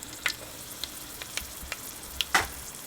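Red chillies with mustard seeds and cumin frying in hot oil for marcha ni kadhi, a soft steady sizzle with sharp crackling pops scattered throughout and a louder burst near the end.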